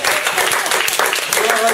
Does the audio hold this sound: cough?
no